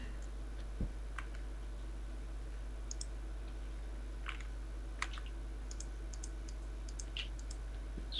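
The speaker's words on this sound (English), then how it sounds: "I hear furious clicking" Rapid, furious clicking of a computer mouse or keyboard during a StarMade game session, scattered sharp clicks in irregular bursts over a steady low hum, with no talking.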